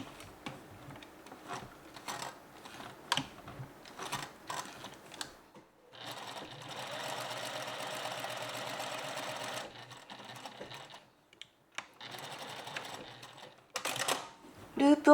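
A sewing machine stitches a small fabric loop for the back keyhole opening of a dress, running in several steady bursts of motor whir and needle clatter separated by pauses and handling noises, close up.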